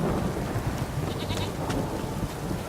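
Steady rain falls in The Witcher 3: Wild Hunt, a continuous even hiss of rainfall with faint distant rumbling and no voices.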